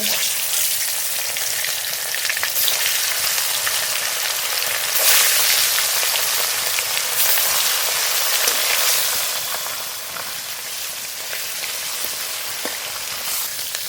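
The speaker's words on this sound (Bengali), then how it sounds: "কড়াইতে সর্ষের তেল দেবো সর্ষের তেল একটু লবণ দেবো মাছ ভেজে নেব" Fish frying in mustard oil in a wok makes a loud, continuous sizzle and hiss that swells in the middle and then eases slightly, with no talking.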